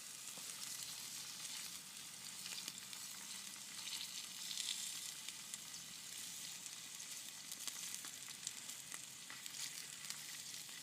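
Squirrel meat frying on a small camping stove in the woods, a quiet, steady sizzle with faint crackles, close up and alone with no talking.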